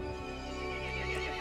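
A horse whinnies loudly and continuously in the video game Resident Evil Village, over a steady, dense background, a drawn-out neigh lasting more than a second.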